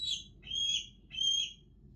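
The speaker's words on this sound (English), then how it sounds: "What sound does eagle make?" An eagle call played back through Google Assistant on a Google TV: three piercing, high-pitched screeching cries in steady succession, clear and fairly near over a low hum.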